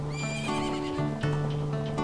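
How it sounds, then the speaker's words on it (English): A horse in The Legend of Zelda: Majora's Mask neighs loudly up close over clip-clopping hooves and steady game background tones. "That's a beautiful horse."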